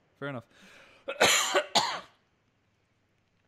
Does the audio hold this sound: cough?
yes